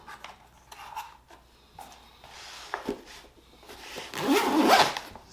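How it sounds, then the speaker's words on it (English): A zipper is pulled around a hard drone case in several short rasping strokes, close and quiet, ending in a longer, louder zip. "Zips up."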